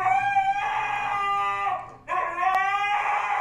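Close and loud, a husky screams and howls in two long wavering bursts separated by a brief gap, with no one talking over it.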